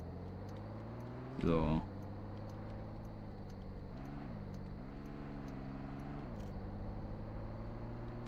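A truck engine drones steadily in Roblox, a constant low hum with gentle pitch shifts as it drives, while someone talks over it and one brief loud squeal cuts in early.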